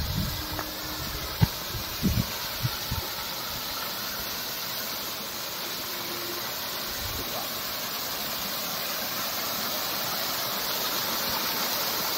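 Artificial waterfall in a botanical garden, heard as a steady broadband rush of falling water filling the scene, with a few faint knocks early on and no talking.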